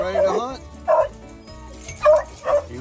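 Several eager hunting dogs bark, yip and whimper in short bursts, close by, with a person talking to them in between.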